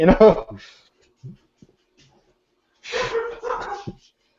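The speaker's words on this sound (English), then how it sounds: "dogs are out there." Dogs barking outdoors, a few short barks and yips heard in bursts at the start and again later, mixed with brief human voices, with quiet gaps in between.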